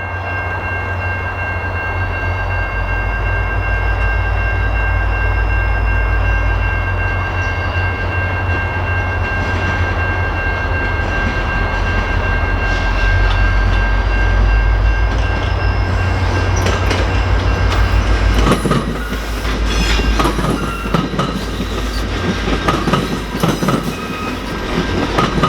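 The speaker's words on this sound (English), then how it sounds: "we'll watch as the J train meets one of Montreal's EXO commuter trains in a" Classic EMD diesel locomotives idle with a deep, steady throb as VIA Rail's J train meets a Montreal EXO commuter train. Near the end, clattering wheels and rail clicks from the passing train take over, loud and close.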